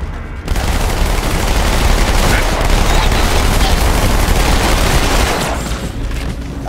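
Dense, continuous gunfire and mortar blasts from the Halo 2: Anniversary battle near Habitat Alpha, a loud sustained barrage of rapid shots and booms filling the whole stretch with no clear gaps.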